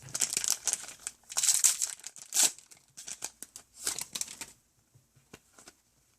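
Crinkly foil wrapper of a Yu-Gi-Oh Clash of Rebellions booster pack being torn open and handled, a run of close, sharp crackles and rips in irregular bursts, tapering to a few faint rustles at the end.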